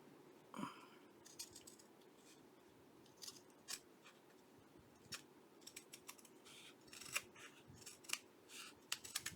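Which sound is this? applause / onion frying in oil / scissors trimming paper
scissors trimming paper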